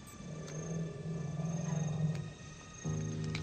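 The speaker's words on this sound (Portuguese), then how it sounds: "O estômago de um elefante faz rugidos quando come." A deep, rumbling growl from an elephant's stomach as it eats, in an African nighttime setting, heard as a low, throbbing drone that swells and then resumes after a brief dip.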